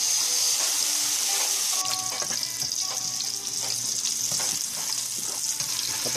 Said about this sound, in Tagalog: Ipiprito po natin ang ating pork hanggang sa maging browning.